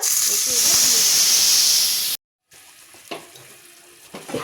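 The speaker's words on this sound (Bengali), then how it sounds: "এটাকে আমি এবার ভালোভাবে নেড়ে নেড়ে একটু ঘন করে নেব" Tomato paste with spices frying in a pan gives a loud, steady sizzle and hiss for about two seconds, then cuts to near silence, followed by faint scraping and stirring clicks.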